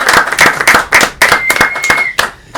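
An audience at a socialist book discussion in Puerto Rico claps by hand in a sparse, uneven patter of sharp slaps, with a steady faint tone running underneath.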